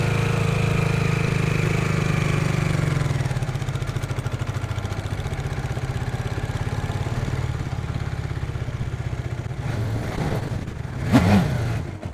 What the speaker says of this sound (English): You just have to, rev it up a little bit more, and you have to slowly let off the clutch.